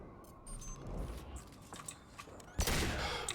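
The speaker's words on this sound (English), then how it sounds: "Let's try out this pistol." Pistol fire in the video game Mass Effect 2, with scattered clicks and shots followed by a loud, close blast near the end, alone without talk.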